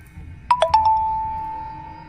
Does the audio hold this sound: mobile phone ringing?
yes